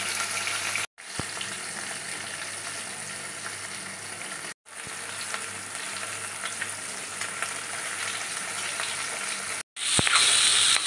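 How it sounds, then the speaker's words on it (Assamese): Steady sizzling of boiled potatoes frying in a hot pan, continuous and fairly loud, broken by a few brief silent gaps. "বইল কৰি লোৱা আলু ভাজি আছোঁ"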